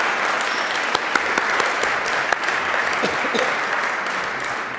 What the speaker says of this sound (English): Please give them a round of applause before we see them on stage.